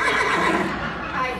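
A horse neighs in a loud, close, shrill whinny that wavers through its length. It sounds from an old-time melodrama stage show at Knott's Berry Farm's Bird Cage theatre.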